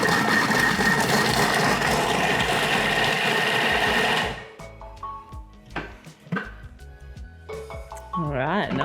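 A Thermomix chops cauliflower florets into rice in reverse mode, a loud dense whirring grind for about four seconds that then stops, followed by clatter and a voice talking.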